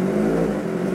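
A Kawasaki ZX25R motorcycle with an aftermarket exhaust revs steadily and loud in a continuous droning engine note that holds for the whole second, with no talk over it.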